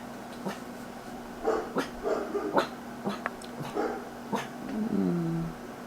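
A dog whimpers and gives short yips and low growly bursts in a quiet indoor room, several brief cries scattered across the span, with a rising whine near the end; no one speaks.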